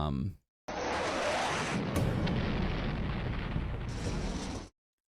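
A loud, roaring explosion in plane crash footage fills the clip with a dense, sustained rumble that cuts off abruptly, with brief gaps of silence at the start and end.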